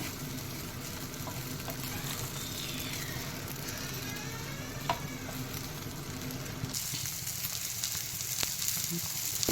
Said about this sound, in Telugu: ఒక టూ మినిట్స్ వరకు మీడియం ఫ్లేమ్లో ఫ్రై చేసుకోవాలి